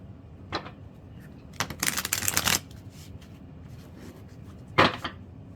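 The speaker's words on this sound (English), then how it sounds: "One more shuffle for Capricorn." Tarot cards shuffled by hand in a few quick bursts, one long riffle in the middle and shorter flicks before and after, close and fairly quiet with no talk.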